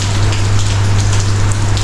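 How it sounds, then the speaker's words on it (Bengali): Light drizzling rain in Old Tbilisi patters steadily and evenly throughout, loud and close, over a constant low hum. "বৃষ্টি হচ্ছে টিপ টিপ করে"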